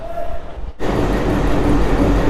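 Train noise at a suburban railway platform in Bangladesh, where a local train is standing: a quiet opening gives way to a loud, steady rumble and hiss that fills the rest of the clip.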